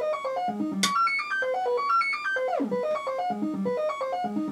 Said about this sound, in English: this is a sequence running